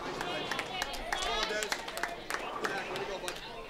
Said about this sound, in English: Coach Jeff Blizzard applauds the effort